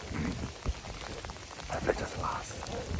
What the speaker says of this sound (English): Just got a pretty yucky rain/snow shower coming over.